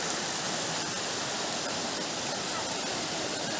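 Steady, broadband rush of a clear forest stream near a waterfall, loud and close, flowing unbroken without talk.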